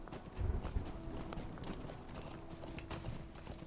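Horse hooves crunching along in Lord of the Rings Online, a steady clip-clop of game footfalls with a crunchy edge, repeating through the clip at moderate loudness, with a few heavier thuds early on.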